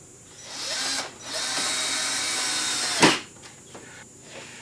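Power drill driving a fastener to secure a board on an outdoor wooden potting bench, a loud close whirring run that briefly stops, resumes, then ends with a sharp knock as the screw seats.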